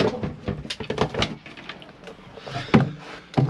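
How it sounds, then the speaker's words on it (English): A caravan drawer in a Rimor Seal 95 Plus is released by lifting the clip behind its handle, giving a series of nearby clicks, rattles and sliding thumps, with sharp knocks near the end. "Lifting the clip behind the handle to release the drawers."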